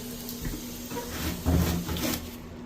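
Water runs steadily from a bathroom tap with good pressure and no air sputtering, after a leaking water heater was repaired; a continuous close splashing rush with no voices.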